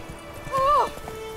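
Horse in the video game The Witcher 3: a short, bright whinny over soft clip-clopping hooves, brief and fairly close.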